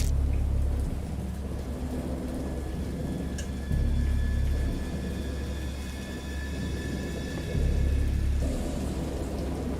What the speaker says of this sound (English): the fucking rain actually sounds super fucking realistic